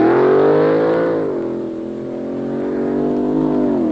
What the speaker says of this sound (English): like this dragster you see pushing out